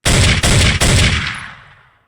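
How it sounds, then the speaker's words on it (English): Gunshot sound effects layered into a music beat: three loud back-to-back blasts in quick succession, the last one ringing out and decaying over about a second. "there's gunshots that I used, and these gunshots kind of give this groove"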